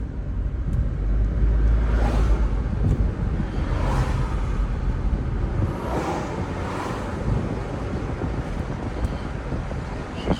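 A 2009 Nissan Altima with a CVT transmission out on a test drive, heard from inside as a steady rumble of road and engine noise with heavy wind buffeting, loud and continuous, no one speaking.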